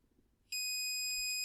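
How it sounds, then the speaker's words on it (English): A security light's door-open alarm buzzer kicks in suddenly after a quiet moment and then holds a loud, steady, high-pitched electronic tone. "the buzzer comes on."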